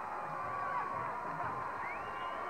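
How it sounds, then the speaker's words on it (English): Enthusiastic crowd at the 1988 Harvard Cup high school football game, a steady wash of distant cheering and shouting with scattered whoops rising above the roar, continuous throughout. "is this as enthusiastic a Harvard Cup crowd as you've seen"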